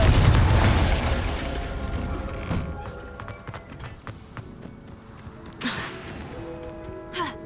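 A Confringo spell explosion in Hogwarts Legacy on Xbox Series X: a loud blast that fades into crackling debris, followed by smaller sharp pops and bursts.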